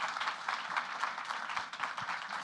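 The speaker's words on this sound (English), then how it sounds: "So let's give our panelists a round of applause." Conference audience applauding panelists at a digital content event, a steady, moderately faint patter of clapping from a room of people lasting a couple of seconds.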